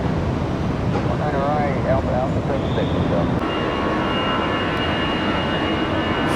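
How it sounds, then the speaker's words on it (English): A Bombardier jet airliner departs Tampa International Airport in the morning, its engines a broad, steady roar from a distance, with a voice talking over the first half. "The only bombardier I'm aware of that gets out of here in the morning"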